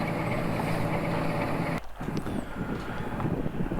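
A large river cargo ship overtaking another on a canal, heard as steady low engine rumble and broadband water and wind noise close by, with a brief dip in the middle.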